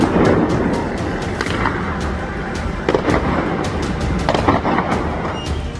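Gunfire amid violent street protests in Iran: a dense, continuous rumble of crowd and street noise with scattered sharp cracks and bangs throughout, loud and chaotic.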